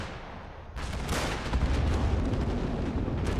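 A realism-mod war video game tournament match fills with explosions and grenade blasts, a dense rumbling barrage of booms and gunfire at close to mid distance, with no voices.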